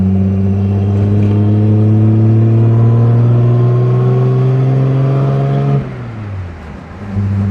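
A 1952 Jaguar cruises at about 50 miles an hour, its engine giving a loud, steady drone at roughly 3,000 revs with road noise, then the engine note drops and dips near the end as the car lifts off and settles again.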